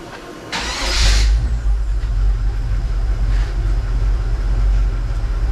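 A 1949 Chevy engine cranks with a short whirring burst, then catches and settles into a loud, rumbling idle close by.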